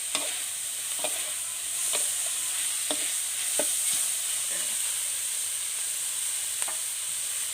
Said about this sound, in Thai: ผัดไปนะคะจนพริกสุก